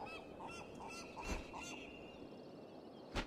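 Stork-like bird call in the video game Wo Long: Fallen Dynasty, a series of short honking cries over steady game ambience, ending with one louder sharp call.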